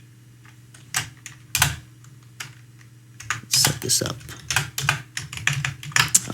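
Someone types on a computer keyboard while programming, with bursts of quick, close key clicks that speed up in the second half, and someone speaks briefly over them.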